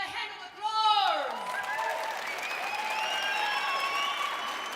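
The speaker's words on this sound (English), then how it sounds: "give yourself a hand of applause" Applause from an audience at a school language-week opening ceremony builds behind a voice at the start, then carries on as a steady, moderate wash of clapping with some crowd noise.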